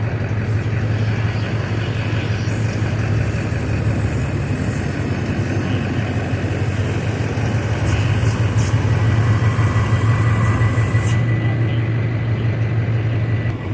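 A vehicle engine runs steadily with a deep, constant rumble while pulling a boat forward onto its trailer. The engine noise stays loud and even throughout, with no talk.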